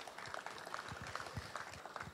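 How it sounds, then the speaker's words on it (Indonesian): Faint, distant audience applause fills the room at a launch event, a soft steady patter of many hands clapping with no voices over it. "Tepuk tangan untuk kita semua."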